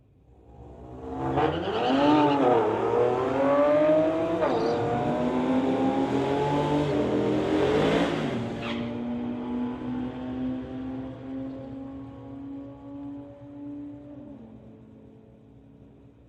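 Infiniti and BMW street cars launch in a Friday night street-legal drag race at a strip, one engine revving hard then accelerating away with a long rising roar that fades gradually as the car pulls into the distance.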